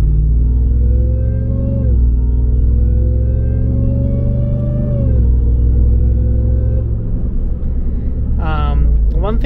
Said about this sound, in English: you hear some intake noise as well, and it's actually really loud as well compared to the whine